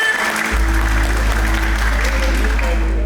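An audience at a village simulation event in Bali breaks into applause, a steady wash of clapping over a strong low hum, with faint voices mixed in.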